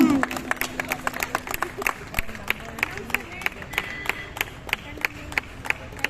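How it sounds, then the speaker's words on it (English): Crowd applause for contest winners at a Diwali festival laddu-making event at a hotel, a steady run of sharp claps and cheering that carries through the whole stretch, with a voice at the start. "So I would like to request all the participants, give a good round of applause for your winners."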